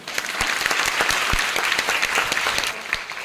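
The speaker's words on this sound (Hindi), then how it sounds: "तो सर आप एक बार जोरदार ताली बजाइएगा सर।" A crowd bursts into loud, sustained applause, dense clapping with a few sharper individual claps standing out, steady and close throughout.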